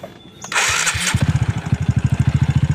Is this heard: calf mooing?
no